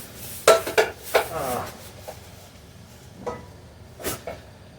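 Pots and pans clatter in a home kitchen as someone digs out a pan for cooking pepper steak, with several sharp metallic clanks and bangs up close, separated by quieter pauses and no talking.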